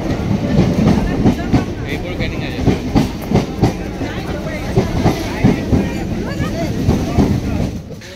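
A local train riding out from Canning toward Garia, with a loud continuous rumble and a rhythmic clickety-clack of wheels over rail joints, wind buffeting the microphone and a voice speaking over the noise.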